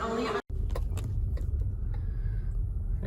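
A car drives along a road with a low, steady engine and road rumble close inside the cabin, broken by a sharp momentary dropout near the start.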